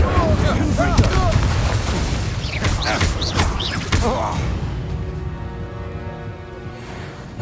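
Incendio and Confringo spell blasts in Hogwarts Legacy fire in quick succession during a fight, loud booms and crackling bursts over busy combat noise with spoken voices mixed in, fading into a lower rumble.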